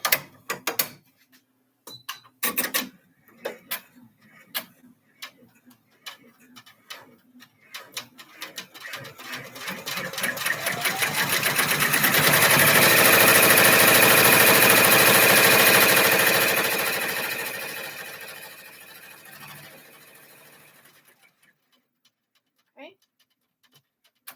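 An embroidery sewing machine stitches close by: scattered clicks and taps at first, then a rising, steady mechanical whir that peaks for several seconds before winding down and stopping.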